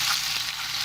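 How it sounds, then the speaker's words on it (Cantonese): Short burst of a starch-coated whole fish frying in a wok, an even crackling sizzle with a faint low hum beneath and nobody talking. "煎嘅時候咧，就喐下條魚"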